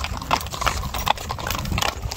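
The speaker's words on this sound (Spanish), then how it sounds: "Qué bonito caballo tiene este hombre." A horse being ridden in Badiraguato walks with steady, close clip-clopping hooves in an even rhythm, the hoofbeats clear over background noise for the whole stretch.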